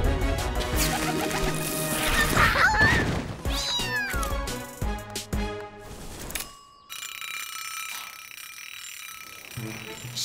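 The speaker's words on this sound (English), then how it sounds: "Meow." A cartoon cat gives a high, sliding meow over a busy musical score with crashes and effects. The music then drops away to near silence before a sustained tone returns.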